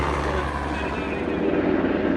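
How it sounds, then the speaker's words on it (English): Steady heavy rotor and engine roar of military helicopters overhead, loud and continuous with no pauses. "So we have military helicopters above us"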